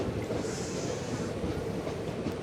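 Balurghat Express, a passenger train, rumbles steadily as it arrives at Jangipur Road station, a continuous loud low roar of carriages and wheels on rails with faint metallic clatter, no voices.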